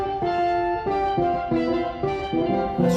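Sustained tonal notes played in Pro Tools pass through a 16th note delay, leaving fast close repeats behind each note in a steady, moderately loud phrase with no voices.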